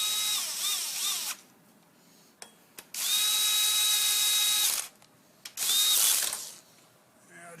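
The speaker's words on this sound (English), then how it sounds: "I'm just going to run them down with a little electric screwdriver" A small electric screwdriver runs down cylinder head bolts on a Briggs and Stratton lawn tractor engine, three close, loud whirring bursts with a ratcheting edge, separated by brief pauses and faint clicks.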